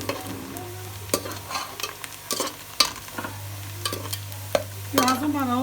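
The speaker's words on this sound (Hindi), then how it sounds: "प्याज को लाइट गोल्डन ब्राउन कर लेना, फिर बाद में इसमें गोश्त डाल लेना।" Onions frying to light golden brown in a pan for gobhi chicken, a low steady sizzle punctuated by repeated spoon scrapes and clacks as they are stirred, with a brief whine at the end.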